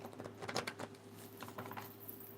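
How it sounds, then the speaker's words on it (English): Tarot cards are shuffled softly, giving a faint patter of quick riffling flutters in two short bursts over a quiet room hum. "Let's get one more solid shuffle."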